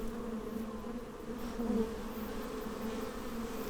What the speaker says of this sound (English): Crazy how much you will scream at bees because they're fucking annoying